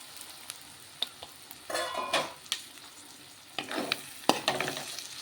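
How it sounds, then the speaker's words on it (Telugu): Spices and chilli powder fry in a pan for a prawn and cucumber curry, crackling and sizzling with bursts of stirring scrapes, close and fairly quiet, with no talking. "కారమును కొంచెం ఫ్రై చేస్తాం"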